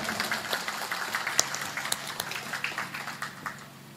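Crowd at an Indonesian Independence Day party gathering claps for a general, a dense patter of moderately distant, fairly quiet applause that slowly fades toward the end.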